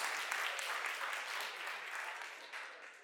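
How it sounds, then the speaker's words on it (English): Wedding guests give a round of applause for the bride and father figures, a steady crowd of clapping hands that tapers slightly toward the end. "how about a nice round of applause for Katie and the father as well as all the father figures"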